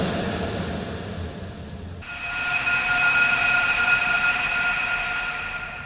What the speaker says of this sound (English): I'm going to put these two sounds on a bus, and then I'm going to add in some crazy reverb.